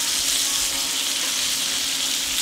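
Bacon strips cooking on a griddle set to 280 degrees give off a loud, steady, even sizzling hiss that continues throughout with no talking.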